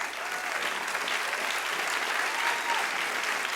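Audience applauding during a talk show interview with Conan O'Brien about meeting Pope Francis at the Vatican, a steady, dense wash of clapping that holds at even loudness from start to finish.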